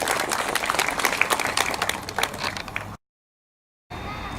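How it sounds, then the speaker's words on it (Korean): An audience at an Ahn Jung-geun memorial event and changgeuk performance gives a council chairman a round of applause, dense steady clapping for about three seconds that ends in abrupt silence, then faint room tone. "우리 의장님께 다시 한번 큰 박수 부탁드리겠습니다"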